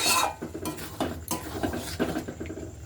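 A spoon scrapes and knocks against a pan while chicken bharta is stirred, giving several clattering strokes at irregular intervals, close and fairly loud, with no voices.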